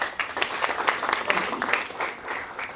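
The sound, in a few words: audience applause for winning team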